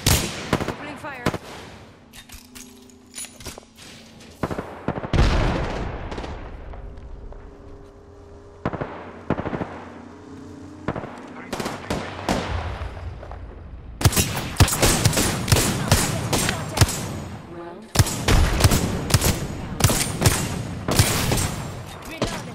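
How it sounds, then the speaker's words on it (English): Bursts of Apex Legends gunfire crack out in rapid volleys, sparse early on and then dense sustained fire in the second half, loud and close, with a voice talking briefly over the shooting. "Opening fire."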